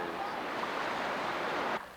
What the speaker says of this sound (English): Out in the big waves.